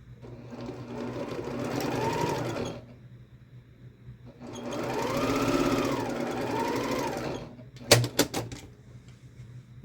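A sewing machine stitches quilt block pieces together in two separate bursts of rapid, buzzing needle action a few seconds apart, followed by a few sharp mechanical clicks.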